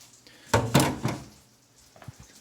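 A kitchen drawer slides open with two quick wooden thuds and a rattle of utensils inside, followed by faint clinks and handling noises.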